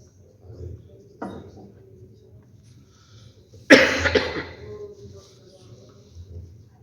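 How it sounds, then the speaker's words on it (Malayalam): A single sharp, close cough stands out, preceded by a smaller throat noise, with faint low voices murmuring in a quiet room. "ചുമയുടെ അസ്വസ്ഥതകൾ വിട്ടുമാറിയിട്ടില്ല"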